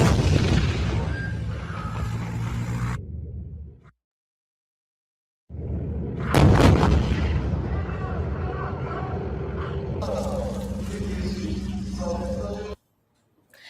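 Israeli airstrikes explode on targets in Iran: deep, rumbling booms roll out in long bursts, one sharp blast standing out, broken by a stretch of silence, with voices under the noise.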